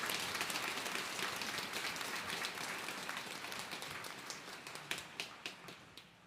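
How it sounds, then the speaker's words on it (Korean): Sustained applause from a church congregation at a Catholic priestly ordination in the Jeju Diocese, dense and steady at first, then thinning into scattered individual claps toward the end. "다 같이 큰 박수 부탁합니다."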